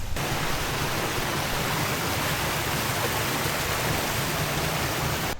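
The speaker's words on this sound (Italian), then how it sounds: "Cascate di là." A waterfall along a lakeside trekking route near Lake Iseo, heard as a dense, steady, broadband roar of rushing water that stays loud and unchanging throughout, with no voices.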